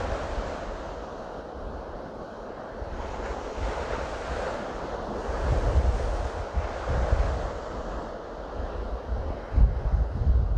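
Ocean surf rolls in and out in slow, steady washes, with wind buffeting the microphone and a few louder swells near the end; no voices.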